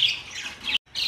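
Canaries chirp and squawk in a bright, close burst. The calls break off for a moment, then start again.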